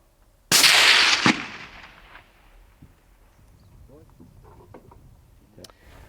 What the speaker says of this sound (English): I give the camera to Nico, grab my rifle, and prepare to take the shot